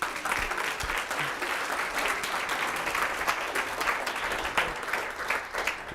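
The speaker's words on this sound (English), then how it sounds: "Round of applause." Sustained applause and cheering from a keynote audience, dense and steady clapping that fills the room at full strength for the whole stretch, with no talk over it.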